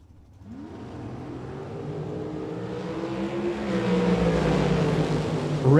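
A Team Mexico dragster launches at a Las Vegas bracket drag race, its engine note rising steadily and growing louder over about six seconds as the car pulls away, with a sharp rising whine near the end and no voices.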